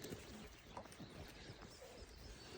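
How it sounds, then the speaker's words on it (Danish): Early-morning birds sing and coo faintly along a forest path in Denmark in May, with scattered soft calls and chirps over a low background hum. "Høre fuglen, de synger."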